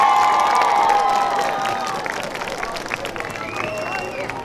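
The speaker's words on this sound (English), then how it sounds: "Let's give him another round of applause!" A crowd at an autism awareness flag raising claps and cheers, loud at first then thinning out into scattered applause and shouts.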